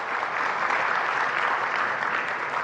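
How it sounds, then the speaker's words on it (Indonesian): A crowd at a launch event for the PNM Liga Nusantara football league applauds the sponsor PNM, a dense, steady wash of clapping that holds evenly for a few seconds without talk. "Tepuk tangan untuk PNM."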